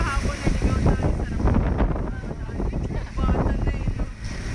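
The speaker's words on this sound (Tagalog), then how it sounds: "Ang laki na ng alon." Big waves slap a small boat during a stormy sea crossing in the Philippines: loud, rushing water and buffeting wind noise fill the clip, with surging swells and faint voices beneath.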